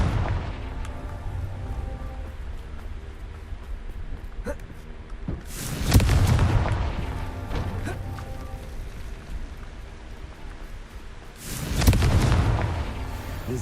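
Confringo fire spell cast in the video game Hogwarts Legacy, heard as two loud booming blasts several seconds apart, each swelling and fading over a low ambient game bed with some speech in between.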